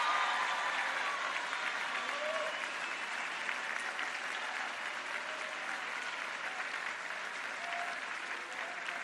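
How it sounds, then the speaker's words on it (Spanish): Sustained crowd applause for health workers at a regional hospital event in Tlajomulco, Jalisco, a dense even roar of clapping that continues without pause. "quiero que le den un aplauso a todos nuestros compañeros y compañeras de salud"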